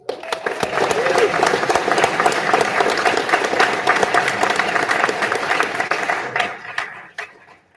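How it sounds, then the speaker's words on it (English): Audience applause at a pre-service academy graduation ceremony, dense sustained clapping from a large crowd that holds loud for several seconds and then tapers off into a few scattered claps, with voices mixed in. "Let's give one more big round of applause for all of our graduates, please."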